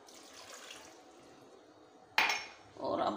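A glass of water poured into a cooking pot for aloo mutton with garlic-ginger paste, onion and tomato: quiet pot sounds, then a sudden splash and a second rush of pouring near the end.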